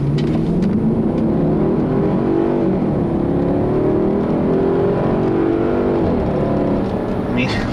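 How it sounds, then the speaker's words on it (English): A 2007 Audi Q7 4.2 V8 engine revs hard and roars continuously, its pitch climbing and falling through several loud sweeps, with a voice faintly under it. "that V8 sounds great"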